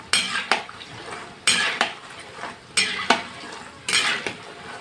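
Salty shankarpali dough pieces frying in hot oil while being stirred in a pan: a steady sizzle punctuated by four or five sharp, regular scrapes and clinks of a metal utensil against the pan, close and fairly loud, with no talk.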